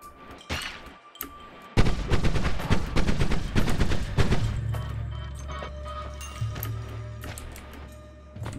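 Bombs going off in the pixel game Noita: a cluster of loud blasts and crackling bursts in quick succession, followed by a lingering low rumble and scattered debris pops.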